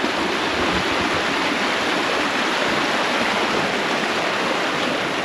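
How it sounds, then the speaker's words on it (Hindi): Water rushes steadily along an irrigation canal toward rice paddies being prepared for transplanting, a loud, continuous, even roar with no voices. "तो दगड़ियो ये देखो रोपाई के लिए नहर से पानी जाता हुआ"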